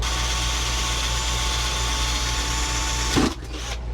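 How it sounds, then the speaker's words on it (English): A loud, steady whirring drill runs continuously drilling out rivets on a Catalina 320 sailboat refrigerator, then a sharp crunch near the end as it bites through, followed by a quieter hum. "I'm gonna go ahead and drill out these rivets"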